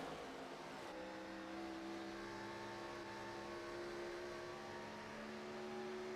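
A race car in the All-American Cup Series at Nashville drones steadily around turns 3 and 4, a sustained tonal engine note that shifts in pitch as it holds speed, heard from a distance without talk.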